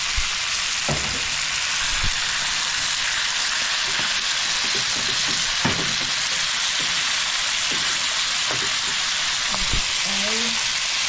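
Shrimp sizzling and frying in a pan for a home dinner, a steady dense crackle running the whole time with occasional soft stirring knocks, close and fairly loud, no talking.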